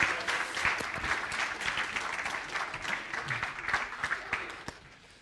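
An audience at a student television awards event claps in a dense round of applause that tapers off near the end, with faint voices mixed in.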